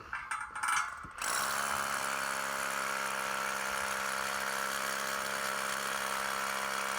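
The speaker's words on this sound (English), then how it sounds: "This has to be on hammer and drill." An SDS hammer drill bores a hole into masonry for a wedge anchor. After a second of handling clatter it kicks on with a loud, steady buzzing whine that runs without a break.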